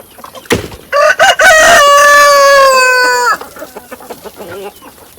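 Chickens in a backyard coop: one loud, close bird gives a drawn-out, strongly tonal call lasting a couple of seconds, with short clucks before it and quieter farmyard noise afterward.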